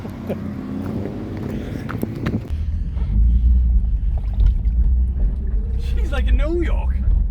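A 1980s-era Mercedes-Benz W123 250 sedan, parked for 17 years, cranks and catches into a deep, loud low rumble that settles into a rough, steady idle, with people talking nearby.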